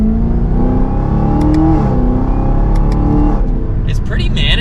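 A 2023 Chevrolet Camaro ZL1 accelerates mildly, its loud engine droning and climbing in pitch through the revs, then easing off near the end.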